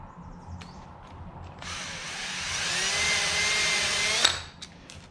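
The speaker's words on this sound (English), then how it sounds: "Drill the corresponding hole." A power drill bores a hole into a wooden bowl blank, spinning up after a quiet start, whining steadily and loudly for a few seconds, then stopping with a sharp click.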